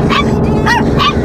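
A dog gives three short, loud, close-up barks mixed with whimpering yips, evenly spaced over a constant background hum.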